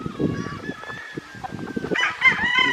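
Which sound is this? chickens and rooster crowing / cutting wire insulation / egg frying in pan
chickens and rooster crowing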